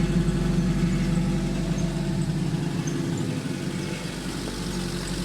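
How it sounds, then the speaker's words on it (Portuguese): A Fiat 147 running on alcohol fuel idles steadily at close range, its exhaust giving a continuous low, throbbing rumble with no speech. "o escapamento, o barulhinho dele é bem característico de um 147"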